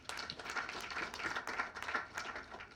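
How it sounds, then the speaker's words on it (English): An audience at a business summit launch claps in a quiet, scattered burst of hand claps, fairly distant and soft, rising and falling over a few seconds without speech. "I think we should clap for them."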